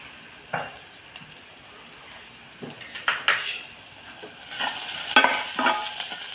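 A spoon stirring frying onion with garlic and coconut in a pan for a green pea curry, scraping and clinking against the metal in irregular strokes over a soft sizzle, growing busier toward the end, with no talk.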